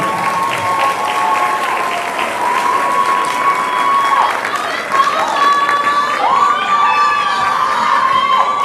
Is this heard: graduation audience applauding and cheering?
yes